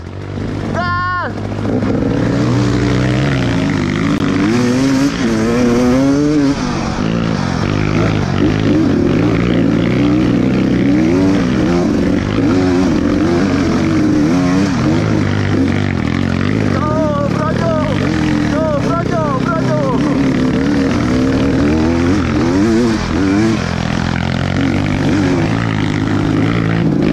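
A Kawasaki KLX dirt bike engine revs and labors through thick mud, rising and falling in pitch close by for a sustained stretch, with riders shouting and talking over it.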